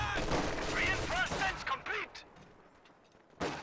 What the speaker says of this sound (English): Just keeps inching this MG42 back, and ultimately pins that shock troop squad.